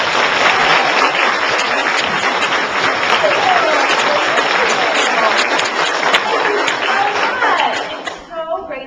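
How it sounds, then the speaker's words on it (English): A school audience at Dover Girls Grammar School applauds to welcome author Meg Cabot, a loud, dense, steady wash of clapping that runs for several seconds before tapering off at the end. "a round of applause to welcome Meg Cabot"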